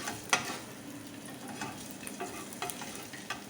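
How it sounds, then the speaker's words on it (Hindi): Steady sizzling of garlic paste frying in oil, close up, with a few scraping stirs of a spoon against the pan. "अब एक पैन में 1 टेबलस्पून ऑयल लेंगे, इसके अंदर 1/2 टीस्पून गार्लिक पेस्ट डालेंगे"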